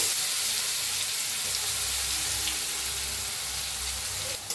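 Mustard seeds and cumin sizzle in hot oil, a loud, steady hiss that holds evenly throughout without pause.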